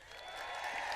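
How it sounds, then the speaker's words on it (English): A crowd at a political tax day protest rally in Washington, DC claps and cheers in a steady, dense wash of applause that swells slightly over a brief moment, with no voices standing out. "please give a big progressive round of applause for MoveOn.org"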